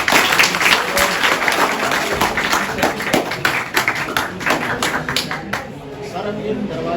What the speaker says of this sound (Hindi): प्रभात सिंगिंग के लिए तालियां इनके लिए